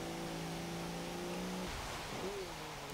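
A 2009 Audi Q7 V12 TDI in Forza Motorsport 7 holds a steady, heavy engine drone with a gear change partway through, then the pitch climbs again under continuous road and wind noise.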